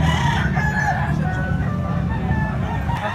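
A rooster, a big white cockerel, crows amid a busy outdoor market, the call blending with steady crowd chatter and background noise throughout.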